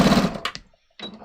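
A sewing machine stitches a jeans seam, turning a corner at the bottom edge, running in a couple of short close bursts separated by a brief pause.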